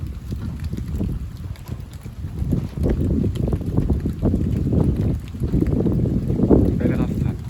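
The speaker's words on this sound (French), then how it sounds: "Belle rafale." Strong wind gusts from storm Darragh roar and buffet the microphone in loud, low rumbling surges that rise and fall, with a brief voice heard partway through.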